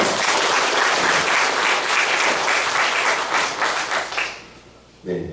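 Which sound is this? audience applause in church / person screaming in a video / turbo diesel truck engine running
audience applause in church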